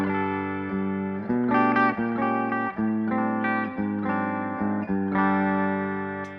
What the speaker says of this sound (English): Down to the bridge position.